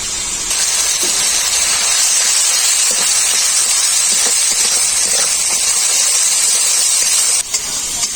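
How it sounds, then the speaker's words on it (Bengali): Black and white mustard paste going into a sizzling masala in a pan, giving a loud, steady hiss that fills the whole clip and drops off briefly near the end, with no voices. "এখন আমি এর মধ্যে দিয়ে দেবো সর্ষে বাটা কালো সর্ষে আর সাদা সর্ষে একসাথে বাটা"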